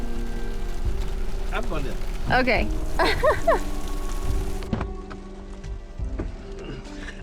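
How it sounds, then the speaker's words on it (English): Hail patters steadily on surfaces outdoors in Hells Canyon, a dense drumming texture close by, while people talk over it. "It's hailing now."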